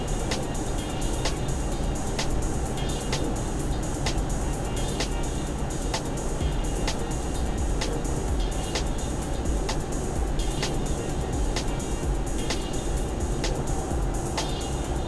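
A car driving along a road in Pathum Thani, with a steady broad rumble of engine and tire noise, constant and close, with faint regular ticking throughout.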